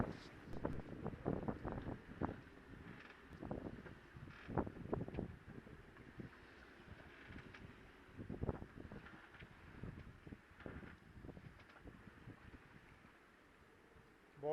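Gusty wind blows across a beach anchorage at Cavalière–Pampelonne, with sailboats at anchor and the water whipped into whitecaps; low buffeting bursts strike the microphone in uneven waves, strong early on and easing toward the end, with no voices.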